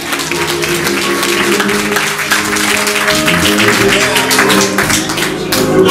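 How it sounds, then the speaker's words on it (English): Church revival congregation clapping in praise, a dense continuous wash of hand claps filling the room, with music and voices blended underneath throughout. "Don't you just give him a hand clap of praise"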